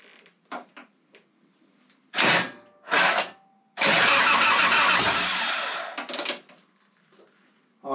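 A 30-year-old Harley-Davidson Softail Fat Boy motorcycle engine, choke pulled fully out, cranks in two short bursts and then catches into a loud, rough running roar for a couple of seconds before dying back to quiet.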